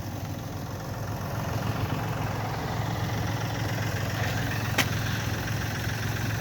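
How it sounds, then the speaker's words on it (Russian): A three-cylinder diesel engine on a Kubota Aste A-195 mini tractor idles steadily with a low, even rumble and constant vibration, no voices, one brief sharp click partway through. "трехцилиндровый дизель."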